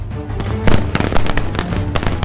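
Rapid rifle fire on a reflexive fire range, a dense string of loud, sharp cracks in quick succession with several shots close together, echoing over a steady background with no talking.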